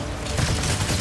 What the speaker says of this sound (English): I keep wailing on it with my guns.